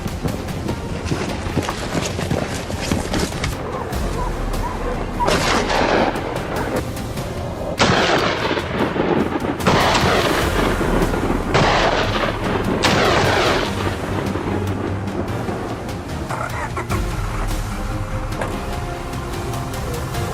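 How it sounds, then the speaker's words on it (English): Rifle fire tearing into a swarm of wild boars on a farm, a loud, dense barrage of repeated shots and cracking bursts that runs almost unbroken for twenty seconds, with a rushing, wind-like roar behind it. "His rifle roared, unleashing a storm of bullets into their position."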